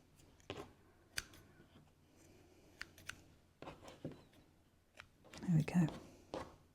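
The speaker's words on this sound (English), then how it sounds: "just trim those threads" Scissors snip loose threads on a freshly sewn fabric cosmetic bag, giving a few short, soft cuts that rise into a brief, louder cluster near the end, heard close up amid quiet handling noise.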